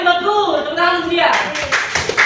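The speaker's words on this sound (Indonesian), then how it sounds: "Tepuk tangan dia" Schoolchildren in a classroom lesson clap their hands in a brief burst of applause, starting after a teacher's voice and building into loud, scattered clapping.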